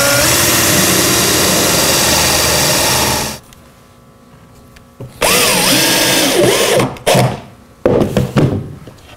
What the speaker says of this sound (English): Now we'll screw through the side into the back.